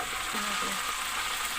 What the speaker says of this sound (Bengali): তেল গরম হয়ে গেছে, এখন আমি মুরগিগুলো দিয়ে একে একে দিয়ে দেবো